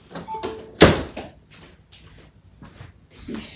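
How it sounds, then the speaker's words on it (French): A door swung shut at close range, one loud thud with a brief rattle, followed by quieter handling knocks and shuffles in a room. "je vais rabattre la porte"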